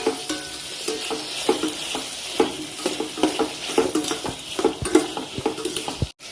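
Onions and shallots sauté in a pan for chicken stew, with repeated scraping and stirring strokes over a low, steady sizzle. The sound is close and fairly quiet.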